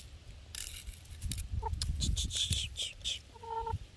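Chickens cluck and call close by in a yard in front of a house during honey mushroom picking, with short scattered bursts over rustling and faint background noise.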